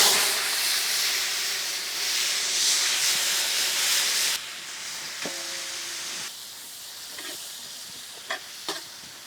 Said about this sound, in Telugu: ఏదైతే మనం ఉల్లిపాయ ముక్కలు యాడ్ చేసామో అవి చక్కగా నూనెలో వేగి బ్రౌనిష్ కలర్ వచ్చేంత వరకు వేయించాక